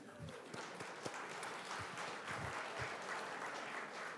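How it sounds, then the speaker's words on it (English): Applause for a performer at a Veterans Day luncheon: a faint, distant room of people clapping steadily, scattered individual claps poking through a soft continuous patter. "I'd love a big round of applause for Tina May."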